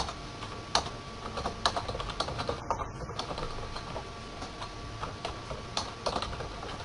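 Commands keyed on a computer keyboard while configuring a Cisco router, heard as quiet, irregular clicks and taps at close range with no talk over them.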